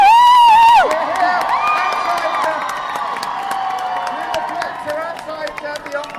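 A big crowd cheers, whoops and claps outdoors outside the Opera House on the Olivier Awards red carpet, starting loud then settling into a sustained roar with scattered shouts and applause, with some voices rising over it.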